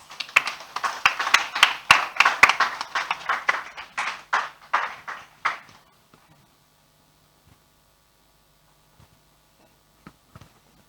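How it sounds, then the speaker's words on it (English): Short burst of audience clapping at an awards celebration welcoming a panelist, a few scattered hands rising then fading out after about six seconds, leaving near silence with occasional taps. "Please, let's invite him with a round of applause."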